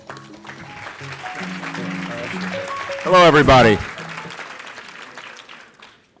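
A gala audience applauds the master of ceremony: steady, moderate clapping runs under background music, with a short burst of speech partway through before the applause fades out.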